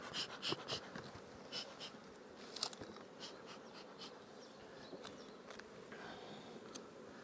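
Honeybees buzz around an opened hive during an early spring inspection, a soft, wavering drone near the frames with a few brief louder swells as insects pass close.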